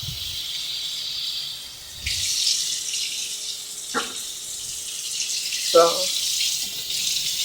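Tap water runs steadily into a pot with a broad hiss, interrupted by a couple of brief clunks; one short spoken word near the end.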